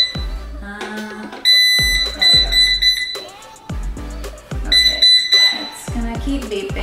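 Anker Eufy RoboVac 25C robot vacuum beeping repeatedly in high electronic tones, close and fairly loud, mixed with handling clunks and low thumps.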